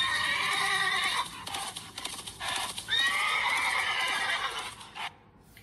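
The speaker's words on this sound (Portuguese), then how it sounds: "o cavalo relincha" A horse on a farm neighs loudly in two long, shrill whinnies separated by a brief pause, with faint hoof clip-clop underneath and no voices.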